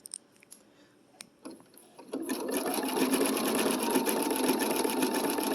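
A sewing machine runs a blanket stitch on applique, starting with a few light clicks and taps before the motor kicks in at about two seconds and then hums steadily and loudly to the end.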